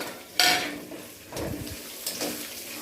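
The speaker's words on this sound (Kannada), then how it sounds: "ಇದು ಒಳ್ಳೆ ರೀತಿ ಫ್ರೈ ಆಗಬೇಕು ಬೆಳ್ಳುಳ್ಳಿ." Garlic frying in a pan while poha chivda is made, a soft sizzle with sharp metallic clinks and scraping of a utensil against the pan at close range.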